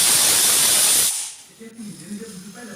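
A pressure cooker cooking dal lets out a loud, steady steam hiss for about a second, which then cuts off to a quiet kitchen with low murmuring.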